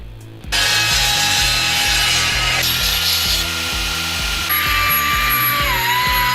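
Power saw cutting a steel steering shaft to length for a custom steering setup on a Datsun LJ20 pickup, loud continuous whining and grinding with a rapid rhythmic rasp, the pitch shifting as the cut progresses.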